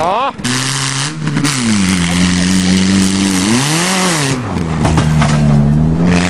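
A Chevrolet Lumina car engine revs hard at full throttle for a jump, rising and falling in pitch, loud and close, while people talk over it.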